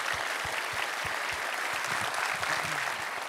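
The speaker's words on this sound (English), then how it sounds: "maybe a big round of applause for the org team" Conference audience applauding the organizing team at a tech event, a steady moderate wash of many hands clapping that carries on evenly for the whole stretch with no voices.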